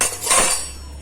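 Dishes and metal utensils clatter and clink together as they are gathered up in a village home kitchen, a short burst of clanking that fades over about a second, with no talking.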